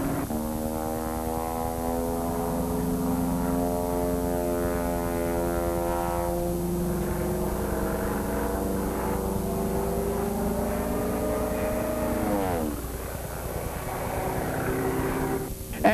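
A propeller airplane roars loud and steady in a low pass at an Addison, Texas air show, its engine pitch sliding downward as it sweeps past during a ribbon pickup near the ground.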